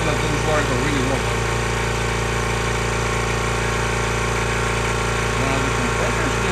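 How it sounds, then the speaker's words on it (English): A 26-gallon air compressor powered by a 100Ah lithium battery, running with a loud, constant motor drone and heavy vibration, with a voice over it. "Now the compressor is nearly done."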